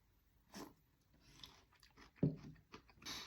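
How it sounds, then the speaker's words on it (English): Close, crunchy chewing of a pickled garlic clove, with several distinct bites and wet mastication sounds, quiet and with no talking. "I want to try a piece of just the garlic."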